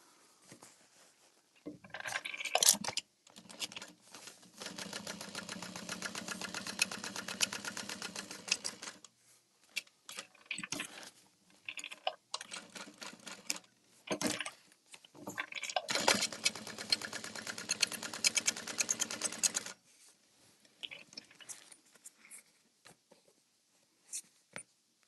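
A home sewing machine stitching in several bursts of running, each a few seconds long and separated by pauses, at moderate, fairly close volume.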